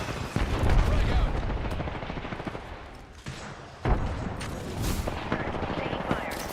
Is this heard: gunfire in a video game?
yes